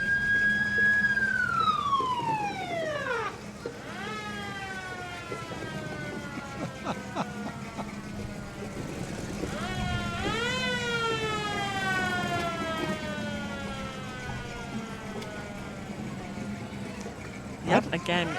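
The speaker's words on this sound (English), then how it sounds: "we can hear the old fire truck." An old fire truck's wailing mechanical siren winds down and rises again in repeated sweeps during a parade, loud and sustained, with crowd noise and a low engine rumble underneath.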